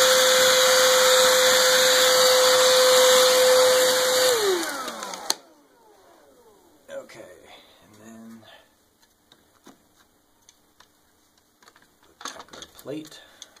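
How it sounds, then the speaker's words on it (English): A vacuum cleaner runs loud and steady while cleaning the brushes of a Roomba 550 robot vacuum, then spins down and shuts off after about five seconds, leaving quiet handling clicks and rustling. "By vacuuming the vacuum."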